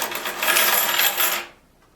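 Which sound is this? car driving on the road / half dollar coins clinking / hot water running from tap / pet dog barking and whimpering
half dollar coins clinking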